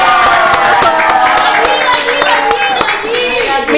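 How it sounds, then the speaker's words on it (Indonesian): A school Islamic club audience claps in a quick, steady rhythm under loud, nearby voices, with the crowd's clapping forming a continuous patter throughout. "tepuk tangannya dong"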